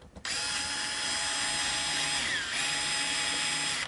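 A power driver whirs steadily and up close, backing screws out of a Fender Powerhouse Strat guitar in one continuous run of nearly four seconds, with no talking.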